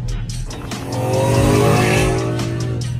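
Classic carbureted cars pull out from a track onto a cruise, engines droning and rising in pitch as they accelerate, with a faint tire noise and a steady, fairly close rumble throughout.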